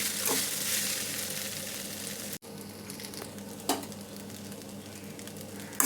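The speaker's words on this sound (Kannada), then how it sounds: "ಈಗ ಅನ್ನ ಹಾಕೋಣ ನಾನು ಅನ್ನ ಹಾಕೊಂಡಿದ್ದೀನಿ ನೋಡಿ ಚೆನ್ನಾಗಿ ಮಿಕ್ಸ್ ಮಾಡ್ಕೊಳ್ಳೋಣ" Cooked rice is mixed into a garlic chitranna mixture in a pan with the gas off, giving soft crackling and scraping stir sounds, a brief cut near the middle and a sharper clink later.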